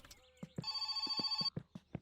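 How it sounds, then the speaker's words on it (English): A telephone rings in the video game My Summer Car, one clear, loud electronic bell trill lasting under a second, set among sharp knocking, clopping thuds before and after. "And another phone call."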